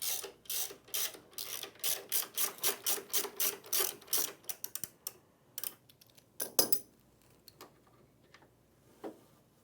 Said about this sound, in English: Remove the shoulder bolt from the brush, supporting the brush so it does not fall.